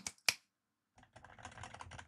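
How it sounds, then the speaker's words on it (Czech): Computer keyboard typing captured on a Shure MV7+ microphone from about a metre away, a quiet, steady stream of soft rapid clacks following a couple of sharper isolated knocks and a short pause. "klapání klávesnice a teď z větší dálky"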